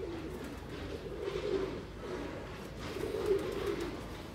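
Pigeons cooing nearby, two soft rolling coo phrases repeating in a slow rhythm over faint background noise.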